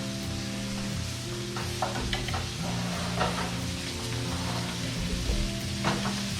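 Sliced zucchini and summer squash cook al dente in a pan, a steady close sizzle of frying with scattered scrapes and stirring clatter over it.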